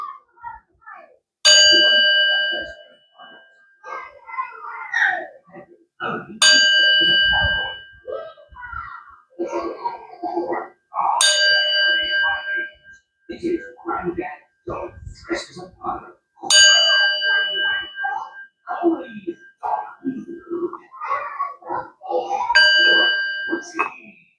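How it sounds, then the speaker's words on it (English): A singing sound bowl struck five times at steady intervals, each strike leaving a bright sustained ring that fades while a voice talks in between. "Let's do the sound bowl, Aquarius."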